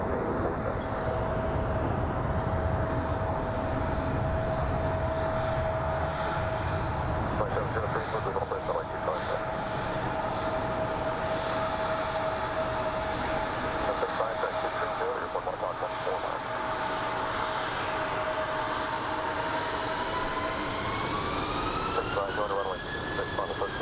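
A CRJ regional jet taxis at Phoenix Sky Harbor airport, its steady engine whine droning at moderate distance for over twenty seconds and rising in pitch near the end, with radio-style talk mixed in.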